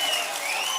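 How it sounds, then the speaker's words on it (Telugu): Large crowd at a TDP political rally in Palamaneru applauding, a dense, loud wall of clapping sustained through the whole short moment. "గట్టిగా ప్రసాదరావు గారిని గెలిపిస్తామని చప్పట్లు కొట్టి హర్షాన్ని, ఆమోదాన్ని తెలియజేయండి."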